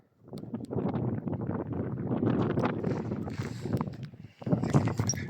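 A diesel walk-behind tractor, or motoblock, runs close by with a loud, rough, chugging rumble that holds steady, dips briefly, then picks back up.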